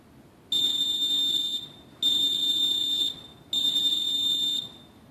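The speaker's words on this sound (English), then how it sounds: "you push your off button until you hear 3 beeps" A Lutron low-voltage lighting control system sounds three long, loud, evenly spaced high-pitched electronic beeps during programming from a remote, each lasting about a second, with nothing else heard.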